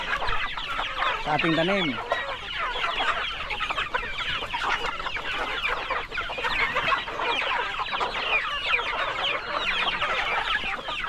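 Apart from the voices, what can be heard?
chickens clucking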